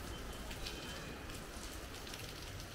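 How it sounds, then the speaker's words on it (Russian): Rain falling in the Himalayas, a faint, steady hiss of drops on surfaces heard from a distance, continuous throughout with no talk. "Очередной дождь в Гималаях."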